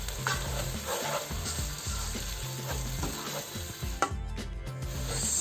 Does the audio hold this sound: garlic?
yes